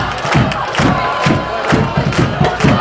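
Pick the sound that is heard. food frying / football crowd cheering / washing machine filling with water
football crowd cheering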